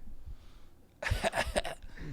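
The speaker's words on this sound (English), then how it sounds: "Cough break." A short burst of a few harsh coughs after a quiet moment, close and fairly loud, with no talking.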